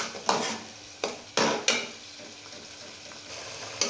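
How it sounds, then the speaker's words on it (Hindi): Chickpea curry gravy masala is stir-fried in a pan, with several sharp spatula scrapes and clatters over a low steady sizzle. "अब हम इसकी करेंगे अच्छी तरह से भुनाई"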